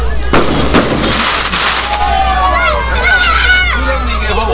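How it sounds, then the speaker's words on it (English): Fireworks go off with a sharp bang and crackle near the start, followed by a murmuring crowd and nearby chatter and whoops carrying over the fading pops. "Enjoy the sound of the crackling fireworks"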